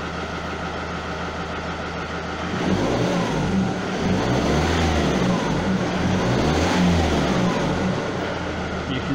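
A Ford Mondeo 2.0 TDCi diesel engine idles, then revs up and back down twice in slow swells, a loud, close mechanical drone with no talking.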